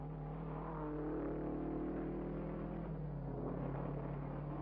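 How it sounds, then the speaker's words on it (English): Cooper Climax and Ferrari racing cars at the 1959 Dutch Grand Prix, a steady engine drone with rising and falling pitch as cars pass, muffled and distant on an old, band-limited recording. "Maston Gregory in a Cooper climax snatched second from Tony Brooks's Ferrari"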